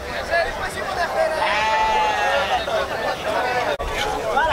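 Sheep bleat loudly and repeatedly at a sheep and goat livestock fair in Cansanção, with overlapping calls close by and people talking in the background.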